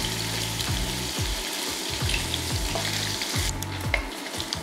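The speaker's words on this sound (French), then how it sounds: "Maintenant on va la griller avec dans notre huile." Meatballs fry in hot oil with a continuous close, loud sizzle, broken by regular clattering pulses as they shift in the pan.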